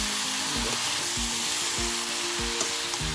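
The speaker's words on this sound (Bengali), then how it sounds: "আর একটু নাড়া দিচ্ছি" Vegetable khichuri with tomato frying in a pan, steady loud sizzle with rhythmic scraping strokes of a spoon stirring about every half second, close by and alone.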